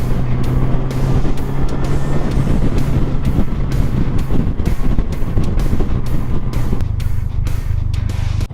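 Yamaha FJR motorcycle cruising down an interstate, a steady close engine drone under heavy wind rush and road noise, continuous with no pauses and no talk.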